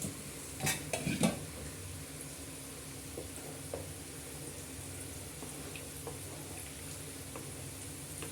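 Soft scraping and clinking of a utensil against a pot as masala is poured into buttermilk curry near the start, followed by a low steady simmering hiss with faint occasional taps.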